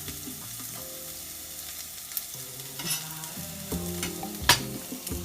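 Garlic sautéing in olive oil in a warm skillet, a steady close sizzle with occasional scrapes and taps of a wooden spatula stirring it.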